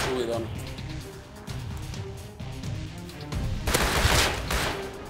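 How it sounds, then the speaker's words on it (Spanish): A person talks while gunshots crackle in the background in the video game Rust, with a louder burst of shots near the end. "Escucho tiros."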